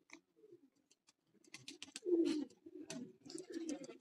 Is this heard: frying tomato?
no